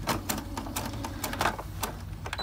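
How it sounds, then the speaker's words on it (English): A sewing machine stitches along the side of fabric for a project bag, a rapid steady run of close mechanical clatter with sharp repeated ticks and no talking. "I'm going to stitch all the way down one side and then all the way down the other"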